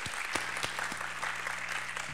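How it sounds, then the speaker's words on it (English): Conference audience applause at a PHP developer conference, a sustained patter of many hands clapping, fairly quiet and even, with a few sharper individual claps standing out and a low hum beneath. "everyone should give a big round of applause just to Michael and the PHP Asia crew"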